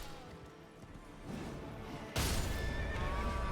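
A horse whinnies amid busy video game noise in Elden Ring, followed by a sudden loud crash or thud and continuing clatter.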